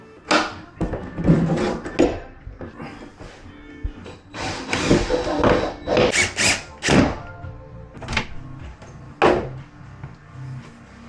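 Screws are put back into door hinges during an apartment move in New York City, heard as a series of irregular knocks, thunks and short ratcheting bursts from hand work on the wooden door, close and fairly loud.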